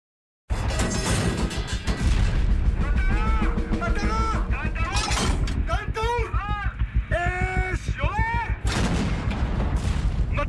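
Tank main-gun fire from the Israeli war series Valley of Tears comes through as heavy booms and crashes mixed with dramatic score and shouting voices, loud and dense throughout after a brief silent start.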